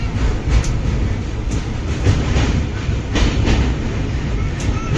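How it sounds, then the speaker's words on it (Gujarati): A moving passenger train between Gondal and Mumbai rumbles steadily from inside the carriage, with a continuous loud roar and faint rhythmic wheel clatter throughout. "ને અહીંયા અમે ટ્રેનમાં બેઠા."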